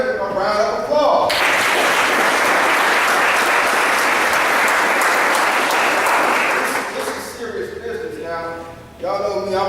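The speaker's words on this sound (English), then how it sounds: "Give our national grand chairman a round of applause." Loud, dense audience clapping in Louisville, Kentucky swells after someone speaks and holds for about six seconds, then fades as his voice returns over the last claps.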